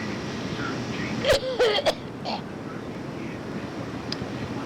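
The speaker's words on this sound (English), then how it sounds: "I'm going to have to take a break right now because I keep coughing" A few sharp coughs around the middle, close by, over steady low background rumble and faint wind noise.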